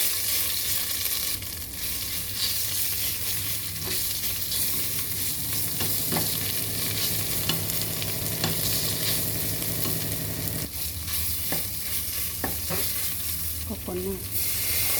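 Masaman curry paste fries and sizzles in hot oil for a chicken curry with peanuts and potato, a steady dense crackle with repeated scraping stir strokes running throughout, close and fairly loud, with no talking.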